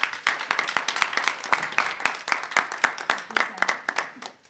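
An audience at a joint Toastmasters club meeting in Dubai claps to welcome the club president: a dense, steady round of applause at moderate volume that tapers off at the end.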